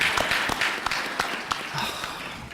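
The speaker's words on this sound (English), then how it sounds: "Let's give him a round of applause." Scattered audience applause at a high school panel event sponsored by the NAACP, a moderate, loose patter of clapping hands lasting a couple of seconds with a few individual sharp claps standing out.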